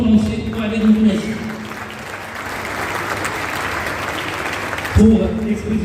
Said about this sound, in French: Je souhaiterais un applaudissement pour M. Walid Moukinassi